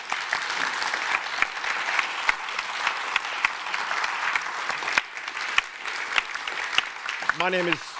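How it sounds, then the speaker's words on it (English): An audience claps steadily for a panel at a Cambridge Festival talk on big tech, with a dense, even roll of applause and a brief voice near the end. "So please, a round of applause for Sebastián, Alina, Jaideep and Jennifer, our panel."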